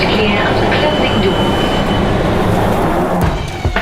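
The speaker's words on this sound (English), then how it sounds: "This is a Victoria Line train to Brixton." A London Underground Victoria Line train bound for Brixton gives a loud, steady rumble and roar throughout, easing slightly near the end, with a voice speaking over it.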